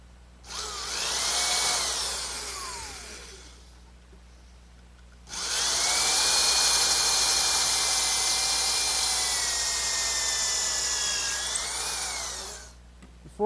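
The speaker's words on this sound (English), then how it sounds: "I'll drill a pilot hole with a counterbore for some screws" A power drill bores a counterbored pilot hole in wood for a rocking horse: a first whining burst of about three seconds, a short pause, then a longer steady run of about seven seconds, close and loud.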